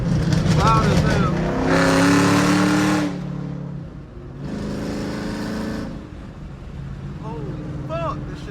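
Loud car engine revving hard while driving a manual car, with two long roaring bursts as it accelerates through gears, separated by a brief lull, and someone talking in between.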